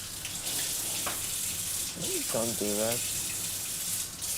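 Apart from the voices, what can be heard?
tap running, splashing face with water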